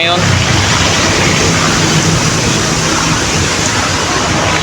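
Heavy rain pours steadily outdoors near fruit trees, loud and continuous throughout with no break.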